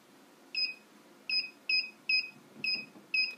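Six short, clear electronic beeps from an alarm system keypad as a technician code is keyed in, spaced unevenly like button presses, with no one talking over them.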